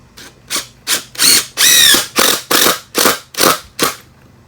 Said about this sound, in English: I take my 3-inch screw and drive that all the way inside